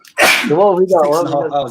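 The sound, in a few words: sneeze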